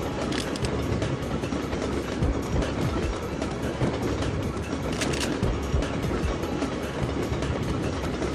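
A video game train from Syphon Filter 2 rumbles along steadily, wheels clattering over the tracks in a continuous rolling drone.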